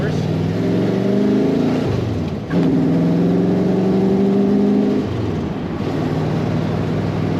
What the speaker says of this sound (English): Nice acceleration in this car.